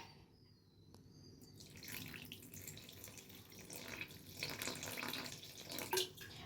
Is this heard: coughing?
no